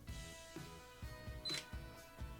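A Sony A7 IV camera fires its shutter by touch, a single quiet mechanical click in the middle of a faint room background, with soft low thumps around it.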